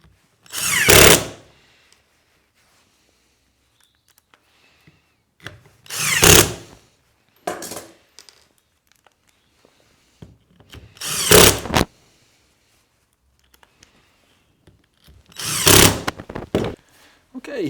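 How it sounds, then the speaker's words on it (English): A power drill drives screws to fix a faceplate onto a wood blank for bowl turning, with four separate loud, short whirring bursts spaced apart by near silence and faint handling noises. "let's get this faceplate on. Hopefully get that centered."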